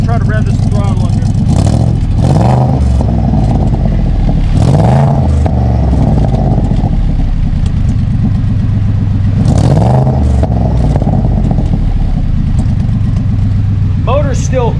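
A Cobra Daytona with a newly fitted exhaust, its engine still cold, revs up loudly several times in rhythmic surges from a steady running idle, close by and continuous throughout.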